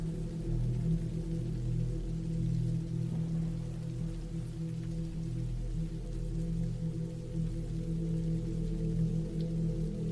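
Rain falls steadily at a low, even level, a continuous soft patter with a deep rumbling undertone and no voices.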